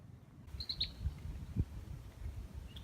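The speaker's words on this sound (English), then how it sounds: "Small red-winged blackbird." A small red-winged blackbird calls in a marsh with cattails at Pittock Lake, giving a few faint high chirps near the start over low rumbling wind and handling noise.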